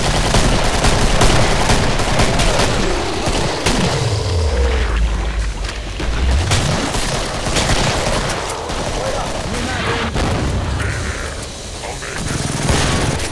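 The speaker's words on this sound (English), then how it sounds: "A machine gun for an arm?" Dense, continuous gunfire and heavy booms from a machine gun in the video game Killing Floor, loud and close, with chaotic rapid bursts running the whole time and no clear pauses.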